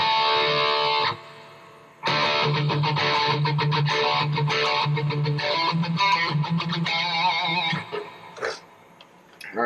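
An electric guitar runs through a classic distortion patch into a relatively high-gain amp model, playing distorted sustained notes and chords with pauses between phrases, close and loud, with no voice.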